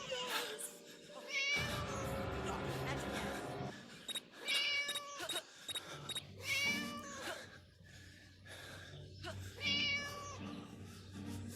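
Several drawn-out, synthetic-sounding cat meows in succession from the video game Scary Teacher, fairly loud and clear, with brief pauses between them.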